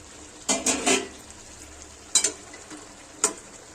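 Spinach stem curry being stirred in a pan: three clusters of close metallic scrapes and clinks from the spoon against the pan, the first a quick triple burst, over a faint sizzle, with no talking.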